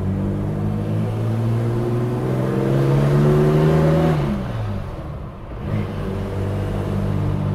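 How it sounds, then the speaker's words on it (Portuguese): A 1983 Chevrolet Opala Comodoro 250-S with its six-cylinder engine revs loudly and close up, building to a rumbling peak, then dropping briefly before settling back into a deep idle-to-rev drone. "Cara, como ronca, né, esses 6 cilindros."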